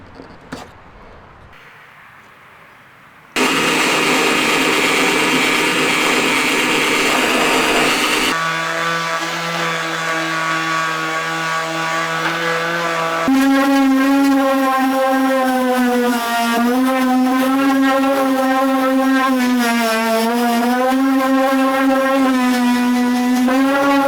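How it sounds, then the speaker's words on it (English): Power sander working over the hull of a jon boat being stripped of grime and oxidation before painting: a loud, steady motor whine that starts after a few quiet seconds, its pitch wavering as the sander is pressed and moved, continuous to the end. "start sanding down the boat and getting it ready for paint"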